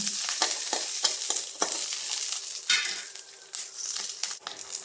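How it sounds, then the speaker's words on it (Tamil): Pepper, cumin, ginger, garlic and curry leaves sautéing in hot oil, a continuous crackling sizzle with repeated scraping stirs and spatula knocks, close and steady. "ஆட் பண்ணி கொஞ்சம் லேசாக ரெண்டு வதக்கு வதக்கி வச்சுக்கலாம்"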